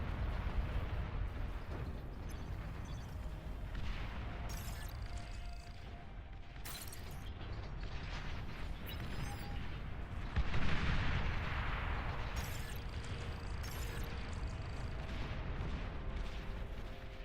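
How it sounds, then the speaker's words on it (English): Bombing explosions rumble through an 8v8 battle in the real-time strategy game Beyond All Reason, a constant low barrage of booms with sharper bursts over it, fairly quiet overall and with no speech. "Oh, they're bombing us."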